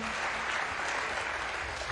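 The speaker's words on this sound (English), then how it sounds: "He's getting a much larger applause for this than anything else." Sustained broadband applause from a large CPAC audience during a Trump speech, steady and loud across the whole stretch with no pause.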